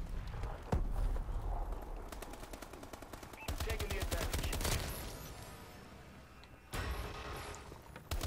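Automatic gunfire in Call of Duty: Advanced Warfare, a team deathmatch game, with loud rapid volleys and three-round bursts arriving in several clusters. Between them there are quieter stretches of game noise and a voice.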